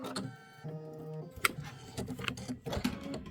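An embroidery machine stitching out a bicycle design, a rapid mechanical whirring and ticking with uneven bursts and clicks, close and moderately loud.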